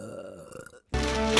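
A single loud, low burp erupts up close after a brief hush, rough and sustained to the end.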